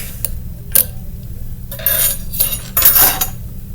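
Metal fork and spoon set down one after another, with a few sharp clinks followed by longer rattling clatters of cutlery on a hard surface, close and loud with no talking.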